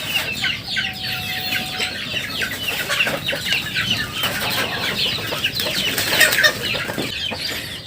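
Free-range chickens on a small home farm cluck and chatter together, with scattered wing flapping and busy overlapping calls at close range, sustained throughout without speech.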